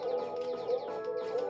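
A warning tone for low health in the SNES shooter Axelay plays on a loop in the background as a wavering electronic warble mixed with the game's music. It is short and steady, and nobody speaks.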